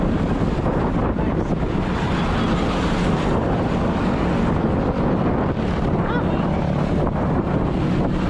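Strong wind roars and buffets the microphone continuously at 5 a.m. on a road ride near Tagaytay, Philippines, a dense, steady rush with no pauses.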